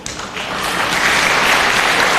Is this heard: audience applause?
yes